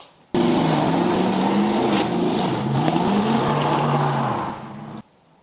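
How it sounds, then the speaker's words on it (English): A car pulls out of a garage, its engine a loud, close, steady motor rumble that rises and shifts in pitch as it moves, then cuts off abruptly after about five seconds. "Then I'm gonna get my dang car out of the garage."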